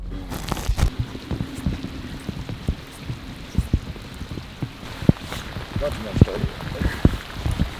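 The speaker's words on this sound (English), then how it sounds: "It's starting to rain" Rain falls on a fishing boat on a lake, irregular close drops and taps over a soft steady hiss, with a low hum underneath.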